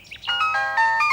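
A mobile phone ringtone sounds for an incoming call, a bright electronic melody of short sustained tones, close and clear with no talking over it.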